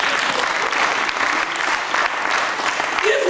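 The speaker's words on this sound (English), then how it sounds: "Give you a clap offering." A church congregation at a sermon bursts into dense, sustained applause, a steady wash of many hands clapping at once, fairly loud and even throughout.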